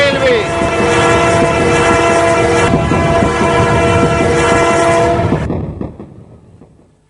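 A train passes near a railway station at Bhaktidham, its horn blaring loudly and steadily over heavy rolling clatter for about five seconds before the horn cuts off and the rumble fades away.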